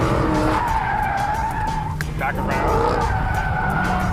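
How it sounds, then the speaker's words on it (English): A Dodge Hellcat Charger drifting, with a loud continuous engine roar and tire skid running throughout, a brief squeal burst near the middle, and a voice speaking briefly over it. "you want to use weight transfer and the throttle, this thing, to get the drift going"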